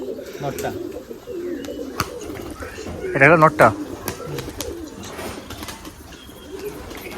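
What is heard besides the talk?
Giribaj pigeons cooing at a pigeon farm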